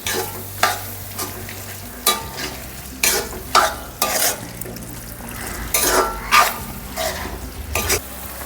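A spoon repeatedly scrapes and stirs prawns and masala with a little water in a pan for Kerala-style prawn biryani, producing regular clanks and scrapes over a soft continuous sizzle, close and fairly loud, no voices.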